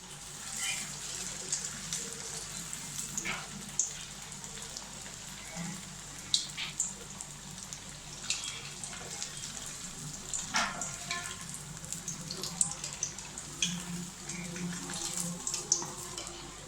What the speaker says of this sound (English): Fry it until golden color